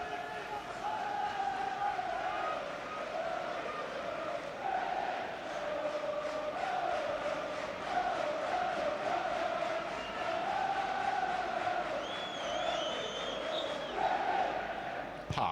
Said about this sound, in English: Well, I know the crowd are very frustrated.